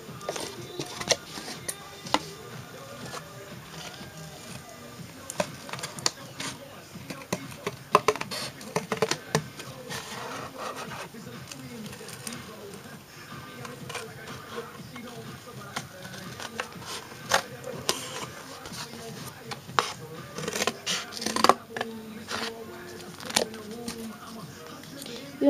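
Scissors cut out a small paper phone for an American Girl doll, the snips and paper rustles coming up close and irregular throughout, with a voice talking over them.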